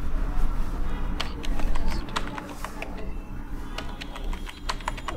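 Fingers tap out a root password on a computer keyboard in quick, uneven bursts of close, crisp keystrokes with brief pauses between them.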